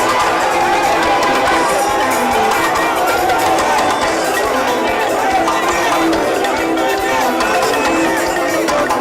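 A large crowd cheers and shouts continuously for a president dancing the Mamaya dance in Guinea, a dense roar of voices with excited calls that stays loud throughout.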